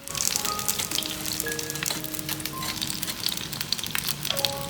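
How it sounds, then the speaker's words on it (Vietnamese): Rice paper rolls filled with meat and vegetables pan-fry in a pan with a steady, close crackling sizzle that continues throughout, plus faint intermittent tones in the background. "mình cứ lật lại áp chảo đều cho tới khi vàng ruộm như vậy là được"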